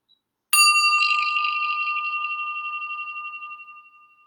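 A single meditation bell struck once after a brief silence, a bright clear ding with a long smoothly decaying ring that fades over several seconds, heard alone.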